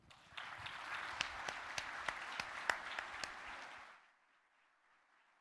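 An audience applauds to welcome keynote speaker Dr. Joycelyn Elders at a conference, steady clapping from a sizeable crowd with a few sharper claps standing out, fading out after about four seconds into quiet.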